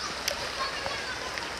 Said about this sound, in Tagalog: Ayan o, mga bata naliligo.